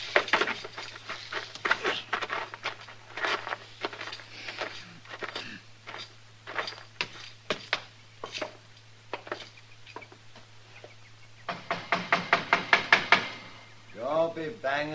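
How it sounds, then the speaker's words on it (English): Knocking on a wooden door as an old-time western radio drama effect: many quick, sharp raps in irregular bursts over a steady low hum, a tight loud series near the end, then a voice starts speaking. "Don't be banging on the door."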